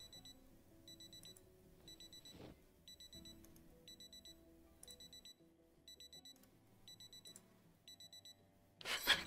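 An alarm clock in the Project Zomboid video game beeps in regular, evenly spaced bursts of rapid electronic tones under low game sounds. The alarm is fairly faint and ends with a louder noise burst.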